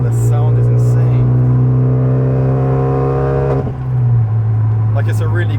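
Renault Megane 275 RS fitted with a titanium exhaust revs hard, a loud deep engine tone climbing steadily for several seconds, then dropping back to a throaty idle.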